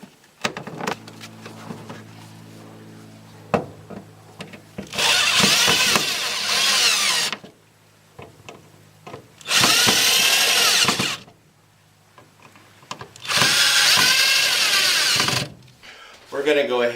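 A power drill drives screws to fix an electrical box into a ceiling, whining in three loud bursts of about two seconds each, with a voice talking in the quieter stretches between.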